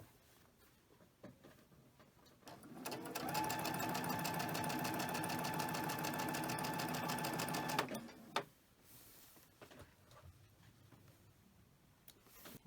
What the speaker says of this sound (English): I'll get another leader ender started